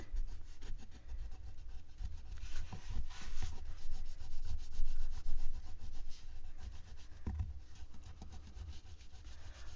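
Sandpaper is rubbed over a fabric-covered journal in a continuous, gritty rasp of quick back-and-forth strokes, close and steady, with no voices.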